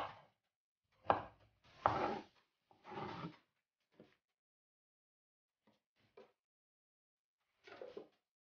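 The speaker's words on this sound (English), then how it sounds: "Alisin ko lang yung dulo and yung ulo ng okra." A knife trimming the tips and stem ends off okra, several distinct close chops on a board, irregularly spaced, with short pauses and a final pair of cuts after a quiet gap.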